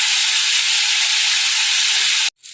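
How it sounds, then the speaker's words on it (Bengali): Sliced bitter gourd fries in hot oil in a pan, giving a loud, steady hiss and sizzle that runs unbroken for about two seconds before a sudden brief drop. "এই যে উচ্ছেটা আমি ভাজতে দিয়ে দিয়েছি"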